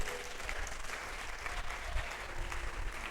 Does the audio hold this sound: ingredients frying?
no